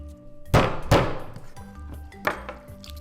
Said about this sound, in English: I'll place the knife on top and give it a little bit bang, and that'll allow us to get through the bone.